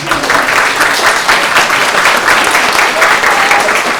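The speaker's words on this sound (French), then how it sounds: "Vous pouvez l'applaudir parce que c'est quand même génial ce qu'elle est en train de faire." Dense audience applause fills a convention hall during a talk by voice-dubbing actors at a Toulouse pop-culture convention, steady and loud throughout with no pause.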